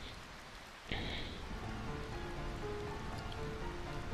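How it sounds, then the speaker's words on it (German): Steady rain in Final Fantasy IX begins abruptly after a moment of near silence, then keeps falling as a dense, even wash of drops and patter with a faint low rumble underneath. "welch herrlicher und köstlicher Regen"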